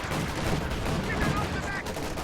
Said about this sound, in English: Lux takes a shot from the Sherman, which in turn takes a shot from the Raketenwerfer